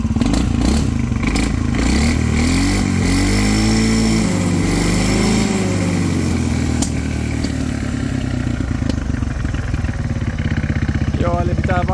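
An ATV engine with a modified air filter and freer-flowing muffler, running lean and popping in the exhaust, revs loudly and continuously up close, rising and falling, with a voice talking over it.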